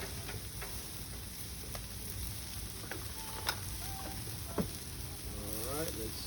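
Fish sizzling on a very hot griddle, a steady crackling fry with a few sharp clicks and scrapes of a utensil, heard close up.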